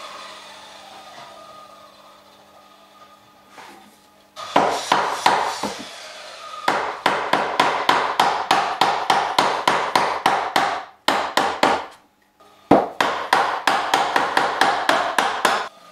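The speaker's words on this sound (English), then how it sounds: "I am just putting the chisel on the line and start cutting" Chisel struck with a mallet to cut a mortise in wood for a handmade rustic bench: loud, close, rapid rhythmic blows in long bursts separated by short pauses, after a quieter stretch at the start.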